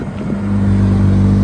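A Mitsubishi Street Evo drag car on a test-and-tune day accelerates hard, its engine note rising into a loud, steady, buzzing roar over a second and a half.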